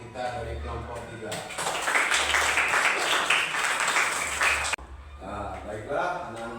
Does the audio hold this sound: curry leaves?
no